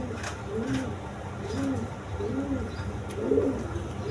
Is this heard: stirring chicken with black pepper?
no